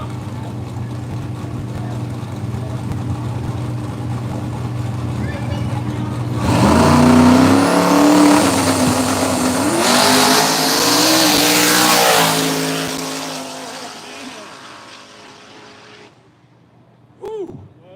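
A 1985 Buick Regal drag car with a 427 engine launching at a no-prep drag racing event, a loud roaring engine note rising and sweeping up as it accelerates down the track, then fading into the distance, with an announcer talking over it.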